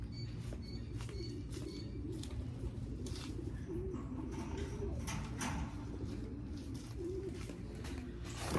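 Racing pigeons in a loft coo steadily and softly through the whole stretch, with scattered chirps and a brief flutter near the end, close and continuous without talk.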